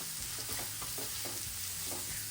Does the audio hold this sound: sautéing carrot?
yes